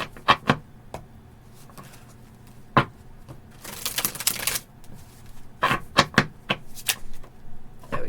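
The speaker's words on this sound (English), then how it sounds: "let's give it a few more shuffles" Tarot cards being shuffled by hand, a run of sharp, close riffling bursts and soft slaps with short pauses between them, one longer rustling shuffle in the middle, no talk.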